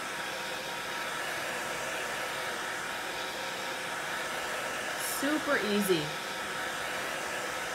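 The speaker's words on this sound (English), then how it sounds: "Just a regular hair dryer" A hair dryer blows with a steady, even whoosh throughout, with a few brief louder bumps near the end as someone speaks briefly.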